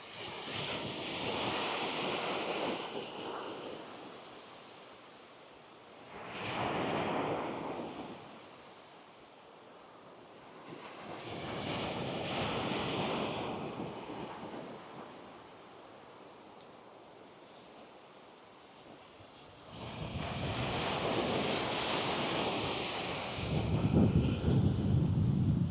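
Waves wash onto Kewarra Beach near low tide in slow, repeated surges that swell and fade every few seconds, with gusts of wind buffeting the microphone.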